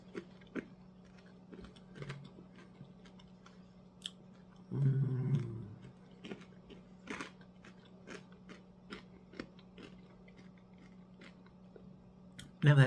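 Crunchy refrigerator pickles being chewed, a series of short, close, sharp crunches spread through the clip, with a louder burst of chewing near the middle and another at the end.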